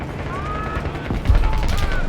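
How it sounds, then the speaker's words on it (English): Gunfire in the video game Call of Duty: Black Ops 6, a busy battle mix of rapid shots and heavier low bursts growing louder partway through, with faint whistling tones and no clear speech. "We've got gunfire to the right."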